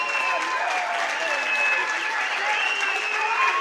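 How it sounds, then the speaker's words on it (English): Crowd clapping at a boxing event after a three-round fight, a steady broad roar of hands with a voice over the arena speakers carrying on throughout. "let's give both fighters a big round of applause"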